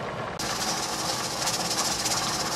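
Steam hissing from a pressure canner on a stove while carrots are being canned, as the weight begins to jiggle; a sudden broadband hiss starts after a brief quiet and continues steadily, close and fairly loud.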